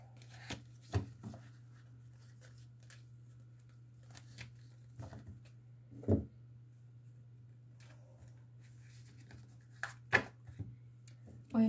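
A deck of tarot-style cards is shuffled and handled in a quiet room, giving soft riffles and sharp card taps scattered irregularly over a low steady hum.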